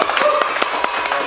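Hands clap in a quick, uneven series of sharp slaps, close and fairly loud, on an Indonesian talk show set, lasting only a moment.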